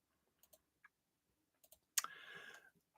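Sparse soft clicks of a computer mouse being scrolled, a few isolated ticks spaced apart in a quiet room, followed by a brief louder burst of rustle.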